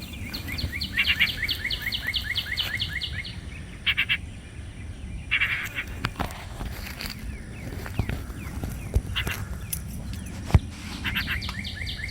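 A small bird in a yard gives repeated quick chirps and tweets in short bursts, with some faint outdoor background noise between calls.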